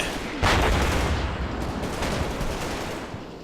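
Heavy machine gun fire from a team in buildings in the Combat Mission: Battle for Normandy war game pours out in a loud, sustained rattling burst, with a sharp report at the start and continuous rolling fire that tapers slightly.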